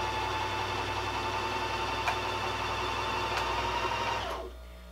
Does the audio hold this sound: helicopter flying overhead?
no